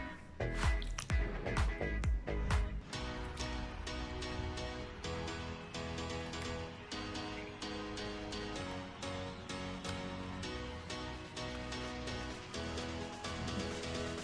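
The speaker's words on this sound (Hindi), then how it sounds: "सबसे पहले एक बाउल ले लिया, इसमें चिकन डाल देंगे।" Raw chicken is dropped into a bowl for marinating, with wet squishing and slapping sounds up close, heavier at the start and then settling into a continuous soft squelching layered with music.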